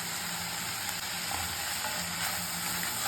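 Onion and tomato sautéing in a pan for a Tamil-style onion sabzi, an even, dense sizzle that holds steady throughout with faint stirring underneath, close and unbroken, no voices.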